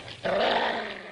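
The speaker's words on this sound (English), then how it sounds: "Dog!" A dog lets out a single short, throaty growl at close range, loud and rough for about a second before cutting off.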